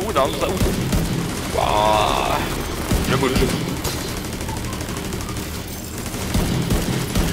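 Sustained automatic gunfire and bursts from The Division 2 video game, loud and dense throughout, with a mechanical click partway, under a voice talking.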